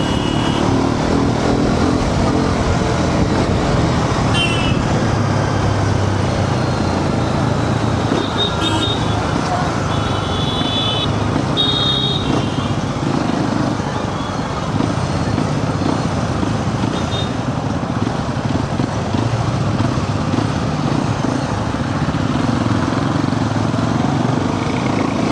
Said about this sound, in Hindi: अभी तो पहले चलाते हैं, देखते हैं बाइक हीट करेगी या नहीं।